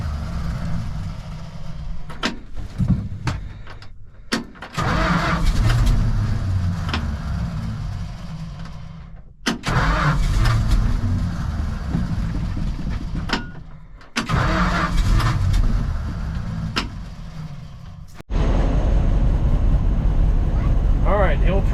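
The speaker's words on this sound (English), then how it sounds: "Alright, the old truck is running." An old 1969 Dodge D300 dump truck engine cranks and catches several times, then settles into a steady running rumble; loud and close, with brief pauses between attempts.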